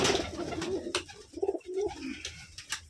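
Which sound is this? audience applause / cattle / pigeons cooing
pigeons cooing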